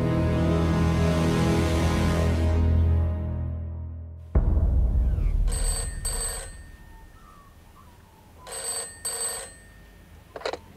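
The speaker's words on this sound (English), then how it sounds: "I was the one that took the phone call on the Tuesday morning from John Fitz." A telephone rings in two short bursts, separated by a quiet pause, after a loud sustained tone fades and cuts off abruptly.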